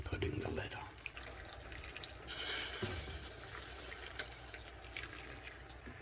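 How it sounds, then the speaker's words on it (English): Boiled water from a kettle poured into a cooking pot while making a roast beef dinner, a splashing, bubbling pour, close and moderately loud, with some clattering and handling noise around it. "I've boiled some water up in the kettle, and I will be adding that and then putting the lid on."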